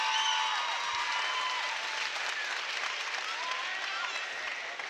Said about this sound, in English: Getting a standing ovation here from the crowd, and the applause just keeps on going